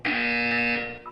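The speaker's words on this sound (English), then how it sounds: "When you hear the buzzer, look up at the ceiling." A loud electronic buzzer from the video game Portal 2 sounds for about a second, a steady harsh tone that cuts off abruptly, alone with no talking.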